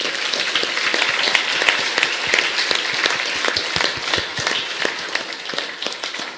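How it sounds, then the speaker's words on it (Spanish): Loud applause from a church congregation celebrating an anniversary in honour of the Virgin Mary in Xepac village, Tecpán, with dense clapping and sharp individual claps running steadily throughout. "Y luego fuertes aplausos"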